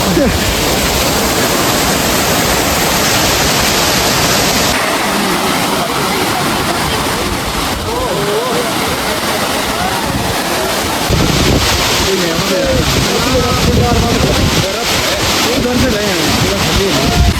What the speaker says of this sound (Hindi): ये देखो यहाँ ऊपर से गिर रहा है झरना